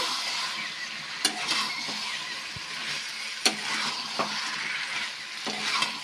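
Jackfruit frying in oil with spices, a constant close sizzle broken by scraping stirs and occasional sharp clicks of a spatula against the pan.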